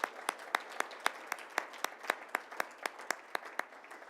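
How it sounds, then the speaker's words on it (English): Sparse, faint clapping with distinct individual claps at a steady rhythm, like a small audience applauding from a distance at a school heritage celebration. "Let's give him a round of applause."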